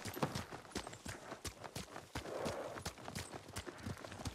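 A horse's hooves clip-clop at a walking pace in Ghost of Tsushima, a steady run of distinct, evenly spaced hoofbeats heard clearly and alone, fairly faint overall.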